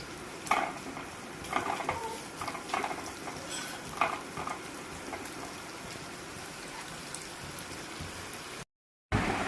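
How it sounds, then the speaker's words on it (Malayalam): Onions fry in a shallow layer of hot oil for prawn biryani, a steady hiss broken by repeated scraping and clinks of a utensil against the pan, close and moderately loud, with a brief dropout near the end. "ഉള്ളി ഒന്ന് വറുത്തൊന്ന് കോരിയെടുക്കണം"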